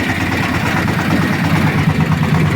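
A homemade 4x4 tractor engine runs close and loud while ploughing a winter field, a steady low, rough drone with no pauses and no talk over it.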